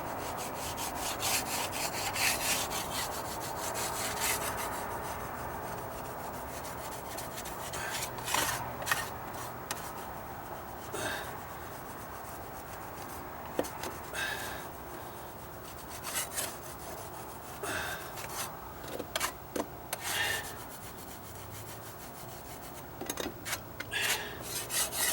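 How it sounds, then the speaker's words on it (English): Repaired wooden deck stair being lightly scraped by hand, a close, rough rasping and rubbing with irregular strokes and occasional sharper scrapes, continuous throughout. "Just gonna lightly scrape on here."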